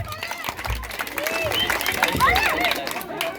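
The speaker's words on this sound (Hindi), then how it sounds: "जोरदार ताली हो जाए" A crowd applauds after a stage play, with clapping and cheering mixed with excited chatter and voices throughout the few seconds.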